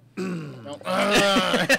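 A single rough throat clearing, a brief raspy vocal rumble followed by a harsher burst, close and fairly loud.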